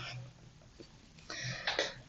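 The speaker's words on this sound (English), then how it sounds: "This is an aggressive cough." A person coughs sharply a few times, loud and close, with short bursts clustered near the end and a quieter throat sound earlier.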